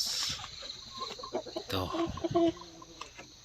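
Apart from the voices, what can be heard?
chickens clucking in their coops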